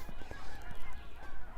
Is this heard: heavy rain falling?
no